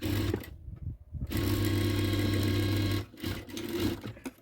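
Sewing machine stitching a joint on an aari-work blouse, running in two bursts of fast whirring with a short pause between, close and clear, with no talk.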